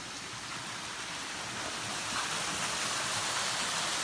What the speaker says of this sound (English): And then the water cascades down into this